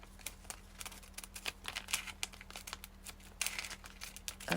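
Scissors snip around a piece of packaging, a run of close, crisp crinkling and cutting sounds, irregular and fairly quiet, with a steady low hum underneath and louder crackles near the end.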